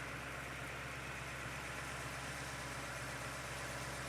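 Thawed Plymouth Cuda engine idling after being frozen, a faint, steady low rumble that stays even throughout with no talk.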